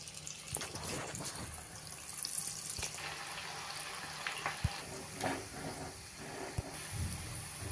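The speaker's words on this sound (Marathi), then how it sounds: "पुढचे पकोडे पण आपण असेच तळून घेऊया" Sweet corn pakodas frying in hot oil, a low bubbling sizzle with scattered clicks and light utensil knocks, faint and close.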